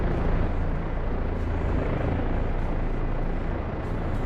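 A helicopter in the DCS flight simulator game roars as a dense, steady rotor and engine drone, loud and continuous, heard from inside the cockpit with no talking.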